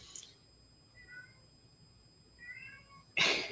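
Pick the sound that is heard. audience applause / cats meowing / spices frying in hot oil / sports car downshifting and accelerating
cats meowing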